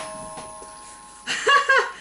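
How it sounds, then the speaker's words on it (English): A doorbell rings once near the end, a bright two-tone chime after a quiet kitchen with faint background hum. "The doorbell just rang."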